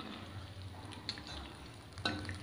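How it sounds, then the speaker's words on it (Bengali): Potato slices fry in hot oil in a pan while being stirred constantly for a Bengali aloo fry, giving a soft, steady sizzle with faint scraping clicks, quiet and close, without speech. "একদম নেড়ে নেড়ে আলুগুলোকে ভেজে নিতে হবে।"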